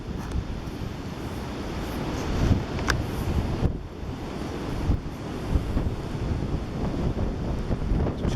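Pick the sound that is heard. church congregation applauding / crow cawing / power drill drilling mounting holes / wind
wind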